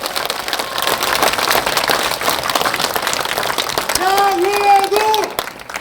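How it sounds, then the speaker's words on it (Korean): A crowded church at a protest mass in Gangwon Province breaks into loud, sustained applause from many hands, with cheering voices rising near the end. "큰 박수 부탁합니다"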